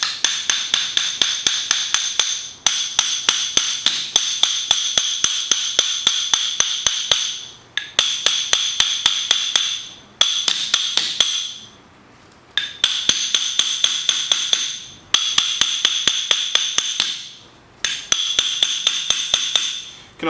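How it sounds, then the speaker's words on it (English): A hammer taps lightly and rapidly around the edge of a MINI Cooper S differential to free the ring gear, dozens of quick ringing metallic strikes in bursts of a few seconds separated by short pauses, close and clear with no talking. "you're just going to lightly tap all the way around the edge of this differential"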